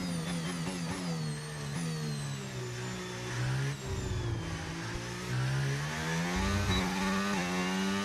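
A racing car engine in a sim racing game of a Belgian Grand Prix event screams steadily at high revs, its pitch climbing and dipping through gear changes, loud and continuous with no talk.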